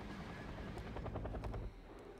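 Mi-25 Hind attack helicopter in the Wargame: Red Dragon strategy game, its rotor thumping in a steady, dense drone with rhythmic pulses, cutting off abruptly near the end.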